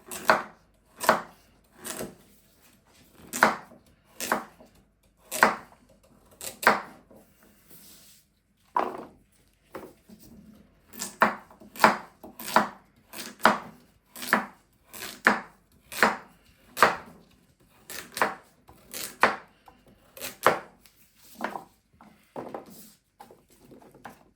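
A knife chops carrots into rounds on a cutting board, crisp close strikes in quick steady runs broken by a short pause, with no talking.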